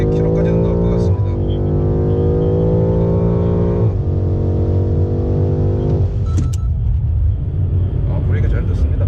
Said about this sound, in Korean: 앞차가 조금 천천히 가서 풀가속 해보겠습니다. 200km까지는 나올 것 같습니다.